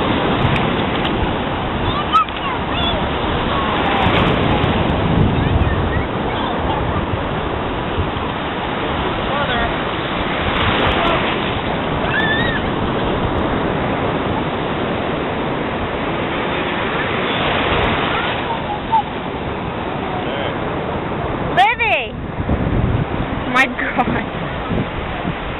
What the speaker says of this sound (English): Were the waves too big for you?